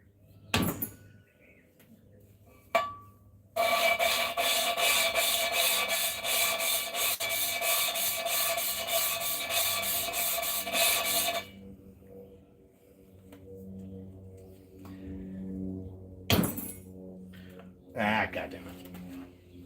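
A steady, harsh grinding rub of valve lapping on a third-generation Hemi cylinder head using lapping compound lasts several seconds in the middle, framed by scattered knocks and clunks and some talk nearby.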